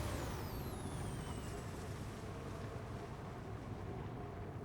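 Windy desert ambience in the video game Metroid Prime 4: a low, steady rumbling wash of wind noise, quiet and unbroken, with a faint descending whistling tone early on.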